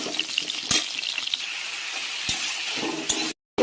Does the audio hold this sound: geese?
no